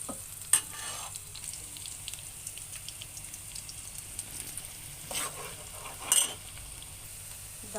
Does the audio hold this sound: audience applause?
no